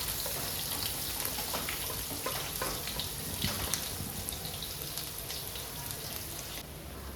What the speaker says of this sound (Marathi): आता मी टाकणार आहे ह्यामध्ये उभं चिरलेलं लसूण,